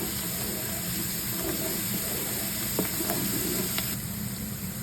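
Ginger-garlic paste frying with browned onions in a pan for Chinese noodles, a steady close sizzle with a few scraping stir strokes and faint clicks, no talk.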